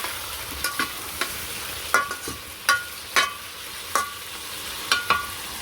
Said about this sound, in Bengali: তো যখন মরিচ বাটার সাথে বাটি ধোয়া জল দিয়ে দিলাম, ভালো করে কষিয়ে নিই।